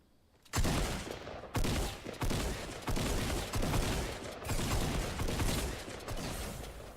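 Gunfire from a Fortnite match: several loud bursts of shots come in repeated volleys about once a second over roughly six seconds, close and harsh, with no talking.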